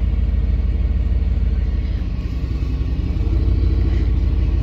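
A steady, rough idle from a 1999 Dodge Durango SLT engine with an exhaust leak, after sitting for 14 years: low rumbling drone and faint ticking clatter, loud and close, continuing evenly throughout.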